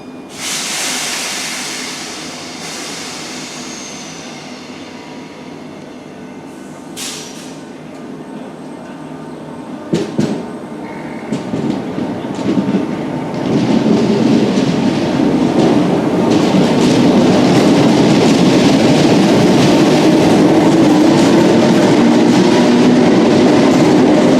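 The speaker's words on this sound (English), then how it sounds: "there's a filthy bugger just arriving now to Alder the Edge. So we're going to film that out first, which is Class 769 Flex" Northern Class 769 Flex train arriving at Alderley Edge station, a hiss and rumble that builds from quiet to loud, with clicks and brake squeals partway, ending in a sustained close roar of the train alongside the platform.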